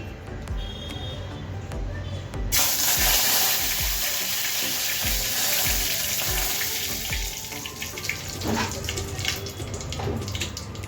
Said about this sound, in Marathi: आता आपलं तेल चांगलं तापलंय तेव्हा सर्वात प्रथम आपण काय घालणार आहोत, कढीपत्ता.